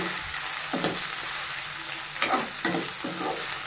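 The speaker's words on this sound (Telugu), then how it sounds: "అల్లం వెల్లుల్లి పేస్ట్ పచ్చి వాసన పోయినంత వరకు ఫ్రై చేసుకోవాలండి." Ginger garlic paste fries in a pan with a steady, close sizzle, and a few soft stirring scrapes come through over it.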